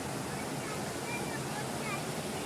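Rushing river floodwater after heavy rain, a steady broadband roar that fills the clip without pause, loud and close.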